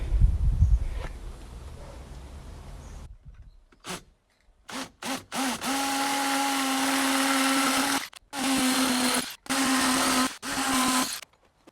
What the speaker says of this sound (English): The only thing that's left now is to drill some holes